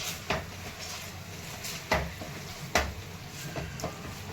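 Pav bhaji vegetables sautéing with turmeric in a pan on a home stove, a steady sizzle broken by a few sharp clinks and scrapes of a spoon against the metal.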